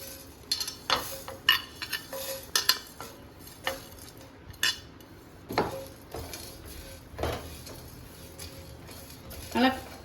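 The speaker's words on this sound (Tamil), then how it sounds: "நம்ம இந்த ட்ரையாக இதெல்லாம் வறுத்து எடுத்துக்கலாம்." Whole spices, pepper and star anise, dry roasting in a pan, with repeated scraping and clinking of a utensil against the metal in irregular bursts, some louder knocks near the end.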